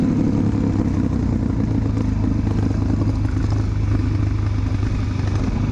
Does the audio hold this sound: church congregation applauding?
no